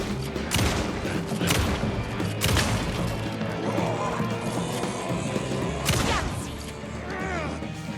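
Shotgun fire in the video game Alan Wake 2 (Night Springs DLC), several heavy blasts over dense, crashing combat noise that stays loud throughout.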